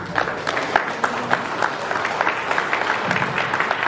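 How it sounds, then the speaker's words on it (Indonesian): An audience applauds after a speech at an Indonesian seminar on belief in God, with dense, steady clapping throughout and a few sharper claps standing out near the listener. "Beri tepuk tangan yang meriah sekali pada Dr. Ya"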